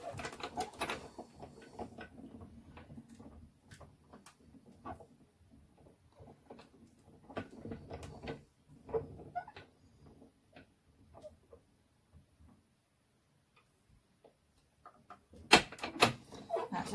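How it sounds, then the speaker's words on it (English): A die cutting machine rolls a hot foil stamp through with faint mechanical clicks, ticks and rattles. Quiet stretches fall between them, and a sharper clatter comes near the end. "that can go straight through my die cutting machine"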